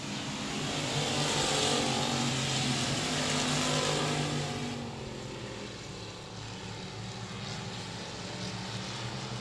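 Race cars at a dirt speedway roar steadily at a distance as they run down the back straightaway, a broad continuous engine drone that swells and then eases slightly.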